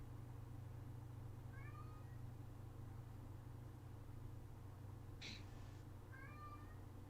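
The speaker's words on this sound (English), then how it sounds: "You hear my cat?" A pet cat meows twice, a few seconds apart, fairly faint against a steady low hum. A brief rustle sounds between the meows.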